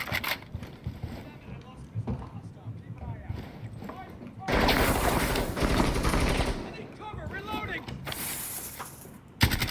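Gunfire from the tactical shooter game Rainbow Six Siege on the Oregon map: scattered shots, then a loud, dense stretch of rapid automatic fire lasting a couple of seconds, mixed with someone talking.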